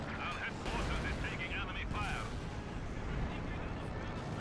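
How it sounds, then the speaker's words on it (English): Constant artillery shells pound a base in the World War II strategy game Company of Heroes 2, a steady low rumble of distant impacts and gunfire under continuous talk. "I do like the constant artillery hitting this base"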